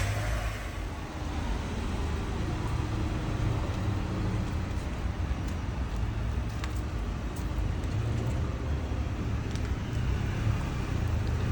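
A Mazda Miata NB MX-5 drives away outdoors, heard as a steady broadband road and engine rumble mixed with wind noise, staying fairly constant rather than clearly fading.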